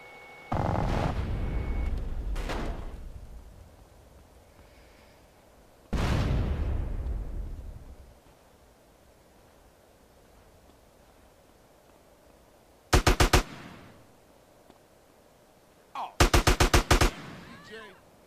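Gunfire in GTA San Andreas: two short, rapid bursts of automatic shots late in the scene, preceded by heavy, booming low rumbles, with quiet game ambience between.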